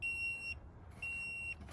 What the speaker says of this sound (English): So if it's more than that, it's going to beep.